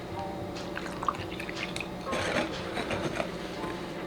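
Water poured into a sweet rice flour batter for deep frying, a low steady trickle and splash with a few soft drips and squishy mixing sounds, close by.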